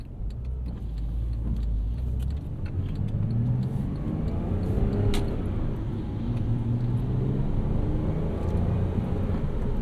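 Inside a 2011 Porsche Cayman 987.2 Base with a six-speed manual, the engine booms through the cabin while driving, a steady loud low drone with a gently rising tone and no talking.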